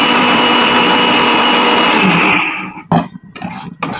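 An electric grinder whirs loudly and steadily, blending spice paste with homemade sour yogurt, then cuts off after about two and a half seconds, followed by brief clunks and rattles of the jar.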